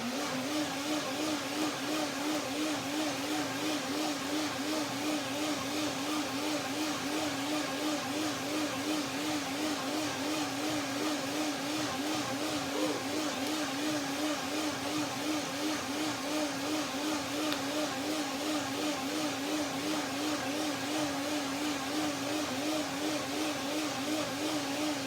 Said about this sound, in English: The sound is not perfect to me, the blender sound.